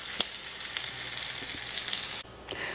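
Smoked Tasso meat sizzles steadily as it warms in a skillet for New Orleans red beans and rice, a broad continuous frying hiss with a few light stirring clicks, close and alone, briefly dipping near the end.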